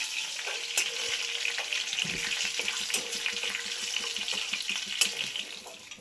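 Sugar, two bay leaves and garam masala sizzle in hot oil, a close crackling fry with sharp spatters and stirring scrapes and no speech.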